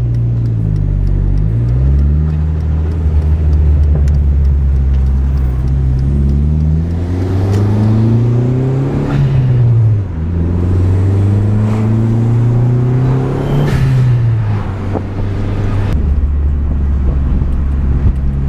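A race car engine revs repeatedly while cruising home, with rising and falling pitch sweeps as it climbs through gears and drops back, loud and close throughout, with no talking.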